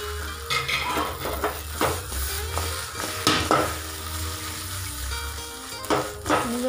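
Fried Gobi 65 cauliflower pieces tossed into hot masala sauce in a pan, with a steady close sizzle and repeated spoon scrapes and clinks against the pan throughout.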